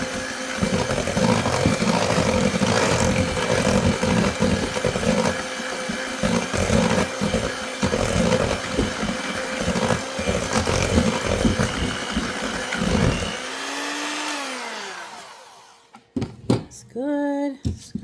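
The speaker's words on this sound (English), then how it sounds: "Blend on low, just until it is incorporated." An electric blender runs on low speed, mixing ingredients for unleavened bread with a steady, loud whirring drone for most of the stretch before winding down, followed by a few short knocks near the end.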